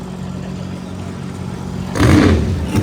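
A Pro Nitrous drag car's engine, a Fulton-powered machine in ProMod qualifying at a drag strip, rumbles at a steady idle, then surges into a loud rev near the end.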